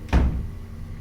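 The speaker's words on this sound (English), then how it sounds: "I heard a door slam." A single sharp door slam bangs out loudly near the start, then the room settles into a low, quiet hum with no further impacts.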